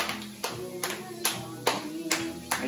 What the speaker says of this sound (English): Clap for Trey, or clap for Nico.